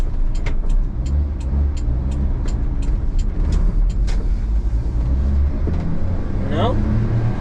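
Honda Acty dump kei truck swinging through a full-lock U-turn, its small engine droning steadily close by with a run of sharp regular ticks and brief squeaks near the end, while someone talks over it.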